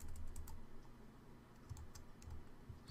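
Keys clatter on a computer keyboard during Android app coding, quick irregular bursts of close clicks with short pauses, faint and without talk.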